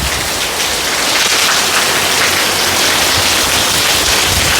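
Heavy rain pours steadily beside a house next to a forest, a dense, loud, unbroken hiss of water striking surfaces with no voices.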